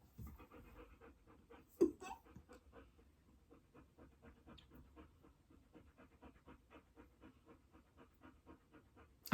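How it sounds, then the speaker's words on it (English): A dog pants quickly and rhythmically up close, quiet but steady, with one brief louder bump partway through. "Stop panting. Oh, my God. He's so loud,"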